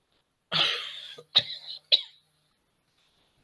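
Three close, harsh coughs: a long rasping one, then two shorter bursts, separated by brief pauses in an otherwise quiet room.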